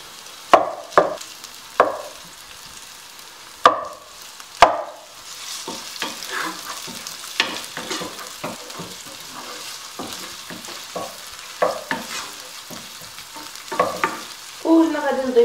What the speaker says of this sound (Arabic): غير كتهبط ليا هاد البصله مع الفلفله الحمراء، وكنضيف الكفته